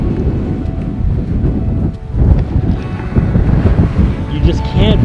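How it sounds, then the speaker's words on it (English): Ocean surf rolls onto an Outer Banks beach at sunset, a continuous low wash of breaking waves heavily buffeted by wind gusting on the microphone. "Sun goes down, listening to the waves."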